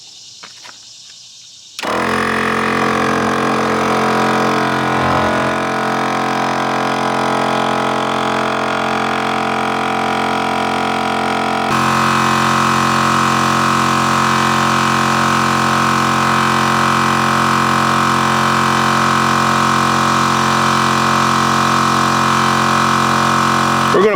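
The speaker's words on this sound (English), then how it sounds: "So let's go ahead and start the air compressor." A Gobege 12-volt off-road air compressor starts after a brief near-silence and inflates a ProMaster van tire with a loud, steady, close mechanical drone and buzzing motor hum, growing slightly harsher partway through and running without pause.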